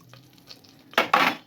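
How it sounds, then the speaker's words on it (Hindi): Dal tempering with dried spices in a pan, starting with faint clinks and stirring, then two loud bursts of sizzling near the end, with no one talking. "यहाँ पर मैंने दाल को तड़का लगाना स्टार्ट कर दिया"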